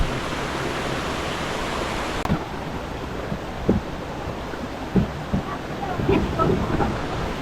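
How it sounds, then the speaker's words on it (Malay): Heavy rain pours at a riverside campsite by Sungai Jernih in Malaysia, making a dense, continuous roar of hiss. A few dull knocks and thumps stand out over the steady downpour. "Sekarang ni pun hujan lebat ni."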